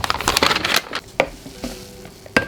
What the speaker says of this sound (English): hear that hissing sound? It's so satisfying.